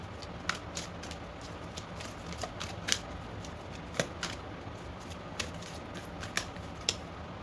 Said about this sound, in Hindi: मैं एक और कार्ड निकालूंगी।